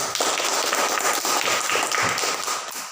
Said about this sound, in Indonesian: Tepuk tangan dulu untuk mereka berdua